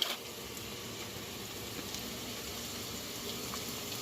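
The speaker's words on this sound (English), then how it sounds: "This has been sauteing for about 5 minutes." A sauce sautés in a pan for spaghetti and meatballs, giving off a soft, steady bubbling sizzle that runs evenly and quietly throughout, with no voices.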